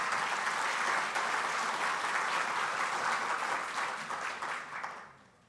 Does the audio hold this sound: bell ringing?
no